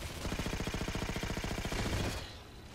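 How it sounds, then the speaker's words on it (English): Rapid automatic gunfire in the Halo 4 video game, a steady stream of evenly spaced shots lasting about two seconds before cutting off, loud and close with no talk over it. "This gun has like a weird recoil. Like, almost like it's having a hard time shooting"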